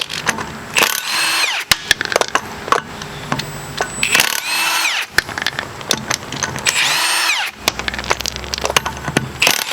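Power tool zipping off 17mm ball joint nuts during an upper ball joint replacement, a series of loud high whirring bursts with rising pitch, separated by clanks and rattles of metal, close up with no talk.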